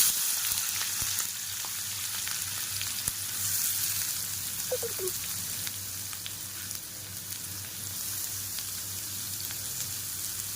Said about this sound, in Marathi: कांदा चांगला मस्तपैकी असा भाजून द्यायचा